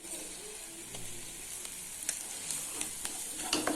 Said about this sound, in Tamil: இஞ்சி பூண்டு வாட போற வரைக்கும் வதக்கிக்கலாம்